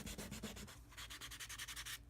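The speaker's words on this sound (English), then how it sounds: "This is just how I do wet sanding." Rhythmic back-and-forth scrubbing of sandpaper on a surface, quick repeated strokes close up, soft and slightly wet-sounding, with no speech.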